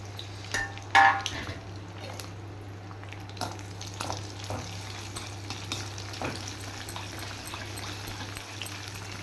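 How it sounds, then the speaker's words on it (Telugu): Garlic and spices tempering in hot oil for mango pickle: a steady, close sizzle and crackle of frying runs throughout, with occasional clinks and scrapes of a spoon stirring the pan over a low hum. "తాలింపు ఆయిల్ కాగుతుంది కదండి వేపేస్తాం ఇప్పుడు అన్నీ వేసి వేపేయచ్చండి"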